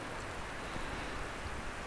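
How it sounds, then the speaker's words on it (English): Steady rain falls on a foggy mountain peak along a long-distance trail, a constant soft hiss with no other sounds. "Fourth day of rain in a row,"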